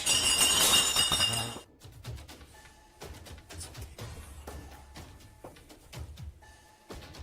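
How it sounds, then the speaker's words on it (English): Sharp glassy clinks and clanks in a dark, supposedly haunted house, starting with a loud bright crash and then scattered fainter metallic taps and knocks at irregular intervals against a quiet background. "Terrifying clinking and clanking bursts through the darkness."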